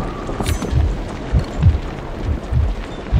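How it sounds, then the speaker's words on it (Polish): Wind blowing across the open sea in the pirate sailing game Skull & Bones, gusty low buffeting that rises in repeated rumbling puffs over a faint airy hiss, fairly loud and close. "ten wiatr, jakie to jest wkurwiające"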